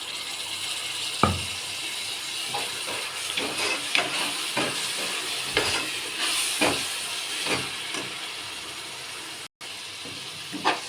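Ground tomato paste and fenugreek leaves fry in a pan for a pulao, giving off a steady close sizzling hiss broken by occasional soft pops and clicks, with no talking over it.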